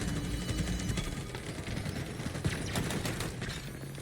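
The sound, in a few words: gunfire in the video game Halo Infinite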